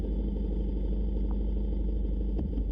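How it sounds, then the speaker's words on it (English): A car engine runs steadily with the radiator fan going, giving a constant, loud, low hum and whir with no pauses, while the car has a small vibration problem. "Even over the sound of the engine running, and even with the radiator fan going, I can still hear the vibration."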